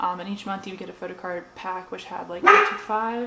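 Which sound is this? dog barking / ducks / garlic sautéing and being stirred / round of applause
dog barking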